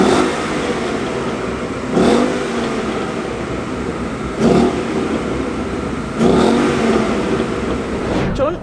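A Ford Mustang GT V8 engine drives with a steady loud drone, and three distinct revving surges rise at roughly two-second intervals.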